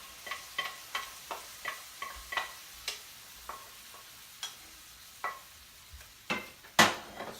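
A spoon scraping and tapping through boiled cracked wheat (daliya) mixed with vegetables in a pan over medium heat, a steady series of short close clicks with faint sizzling beneath.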